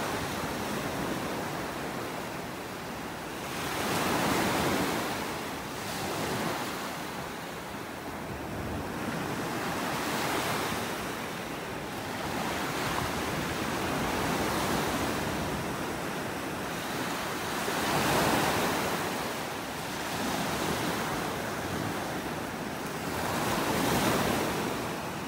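Ocean surf on a beach in North Naples, Florida rolls in continuously, with several swelling wave breaks cresting every few seconds over a steady wash and some wind rumble, no voices.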